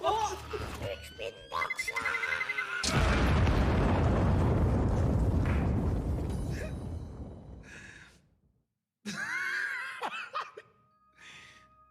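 A bomb blast in an animated war game, a sudden loud roaring explosion that rumbles and slowly fades over several seconds, with people laughing and talking before and after it.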